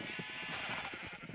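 Sheep bleat in a video game with several wavering, nasal cries in quick succession. They sound fairly quiet and close together, over a steady background hum.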